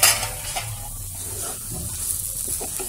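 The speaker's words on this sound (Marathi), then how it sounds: "असं हलवत हलवतच हे आता पीठ शिजवून घ्यायचं" Gram flour dough for zunka vadi is stirred steadily in a pan on a stove over a low flame, giving soft scraping and a faint sizzle that continues quietly throughout.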